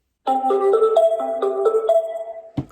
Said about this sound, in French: On va venir allumer cette petite ensemble qui fait vraiment du bruit.